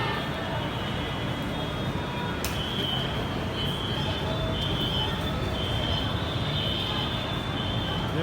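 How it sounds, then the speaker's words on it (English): Continuous rumble of the Orange Line metro train in motion in Lahore, Pakistan, steady wheel and track noise with a thin high whine running through, enclosed and fairly loud. "this is orange train in Lahore city, metro train"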